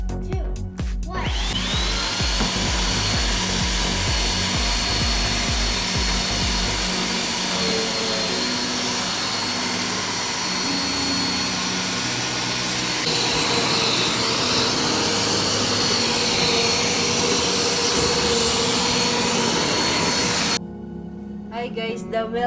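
A cheap $39 Eureka AirSpeed ultra-lightweight compact vacuum cleaner runs with a loud, steady whine and motor drone for most of the span, then cuts off abruptly near the end.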